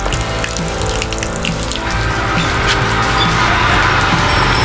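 Water gushes strongly and continuously from a newly installed faucet fed by a water pump at high pressure, splashing loud and close with no talk.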